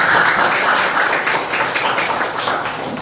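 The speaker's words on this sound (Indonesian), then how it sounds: "Oke, tepuk tangan." Children in a classroom clap their hands together in a dense, steady burst of applause that fills the room, with some voices mixed in beneath it.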